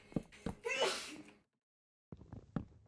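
One person sneezes sharply and loudly up close, with a quick intake of breath before the burst, then a pause and some soft shuffling.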